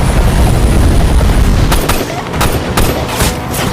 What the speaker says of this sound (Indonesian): langsung menembak jatuh helikopternya.